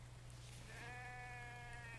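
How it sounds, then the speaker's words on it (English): A sheep bleats in a video game, one drawn-out wavering bleat rising out of a steady low hum, fairly faint and without talk. "Bad to you too, sheep."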